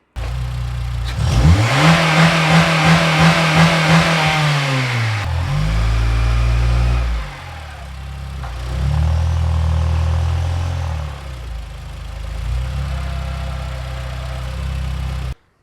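Honda Fit with Mugen parts cranks and starts, then revs hard with a rising and falling whine before settling to a loud, close, rough idle with a few more throttle blips.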